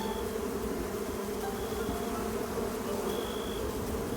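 Bees buzz in a medieval colony-building game, a steady dense drone with a faint high whine drifting in and out, loud and continuous throughout with no voices.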